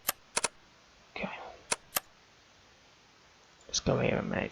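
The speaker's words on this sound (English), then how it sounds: "just so I can get away from this clicking noise" Sharp, isolated clicks in the String Tyrant video game come in a few spaced pairs and singles, crisp and close, with someone talking briefly between them.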